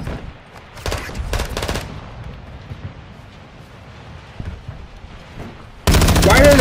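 Gunfire in Call of Duty Modern Warfare 2 during a Halloween zombie event, with loud sharp bursts near the start and a dense, heavy volley at the end, while players talk in the background.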